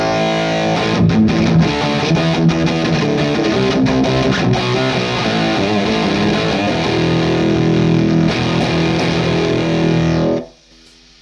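An electric guitar played through a gain pedal into an overdriving amp gives thick, fuzzy distorted chords for about ten seconds, then cuts off abruptly to quiet hiss.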